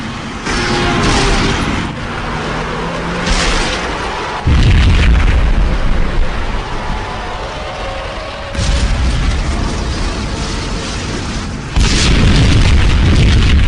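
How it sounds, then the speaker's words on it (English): Bomb blasts in the Max Payne video game sound as deep booming explosions, several heavy bursts arriving at intervals over a continuous loud rumble of game noise. "Another bomb exploded inside the closest slum building."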